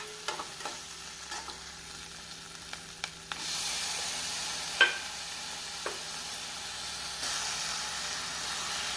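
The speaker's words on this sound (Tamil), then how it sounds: "தக்காளி பழம் போட்டு நாம் சிம்மில் வைத்து ஒரு ஒரு நிமிடம் நன்றாக வதக்க வேண்டும்" Ginger garlic paste and tomatoes sauté in a pan for bread egg masala: a quiet background sizzle with occasional scraping stir strokes, and the hiss swells once the tomatoes go in.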